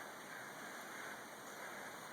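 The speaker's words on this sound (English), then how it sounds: "So we do have a stream out here." Steady broadband rushing of flowing water, continuous and fairly even, like a nearby stream running without pause.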